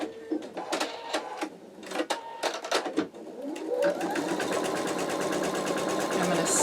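An embroidery machine starts stitching out an in-the-hoop wallet, at first with a few separate stitches under a voice speaking, then settling into a fast, steady, loud mechanical chatter.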